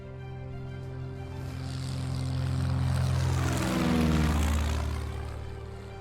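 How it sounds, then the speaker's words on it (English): Piston-engine naval aircraft fly overhead during carrier landing practice in 1943 Charlestown, Rhode Island, a steady droning roar that slowly swells to a peak near the middle and fades slightly, with no talk. "the roar of powerful piston engines can be heard overhead as naval aviators practice aircraft carrier landings"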